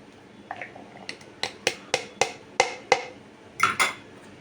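Beetroot chopped in a hand-operated onion chopper gives a quick series of about a dozen sharp clacks and clicks, close and fairly crisp, in an uneven rhythm.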